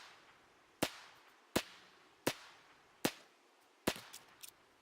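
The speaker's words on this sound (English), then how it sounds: "it fires 45 ACP at a much faster rate than the UMP" Five sharp, evenly spaced gunshots from a .45 ACP weapon in the video game PUBG Battlegrounds, each a crisp crack with a short decay, fairly faint against a quiet background.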